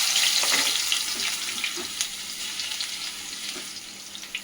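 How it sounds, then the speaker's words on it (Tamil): Garlic frying in hot oil with mustard seeds sizzles steadily in a pan, a loud hiss that settles into a softer crackle with scattered pops. "இனி பூண்டு போட்டுக்கலாம்."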